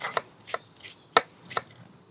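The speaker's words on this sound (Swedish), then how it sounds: "Tar en ganska rejäl bit ingefära. Då river du den också ner i marinaden." A sizeable piece of fresh ginger is grated into a lamb tikka masala marinade, giving five or six short, close scraping strokes spaced at an uneven rhythm with no talking.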